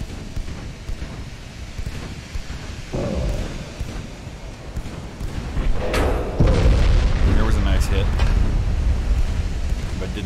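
Naval gunfire in the warship game Ultimate Admiral: Dreadnoughts, with heavy booming salvos and rumbling blasts building over a noisy sea backdrop while someone talks over it.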